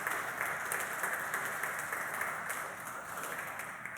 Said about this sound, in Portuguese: Vamos aplaudir mais uma vez a palavra de Deus.